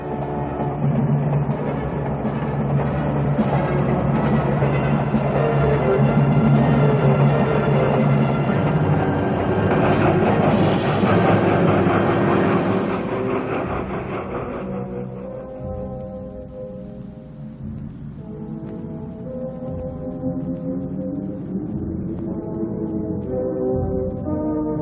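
A train of sealed boxcars rolls along rails with a steady, loud rumble that lasts throughout, overlaid with long, drawn-out tonal sounds like a horn.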